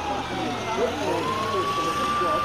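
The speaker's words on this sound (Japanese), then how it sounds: "救急車がやってきた。" An ambulance siren sounds in the PSP horror game Shin Mimibukuro, a single rising wail that sweeps up and holds over a low background rumble at moderate loudness.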